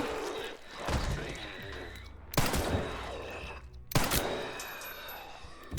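Gunshots in Resident Evil Requiem ring out as three loud, separate blasts spaced over a few seconds, each with a short echoing tail, amid quieter game ambience.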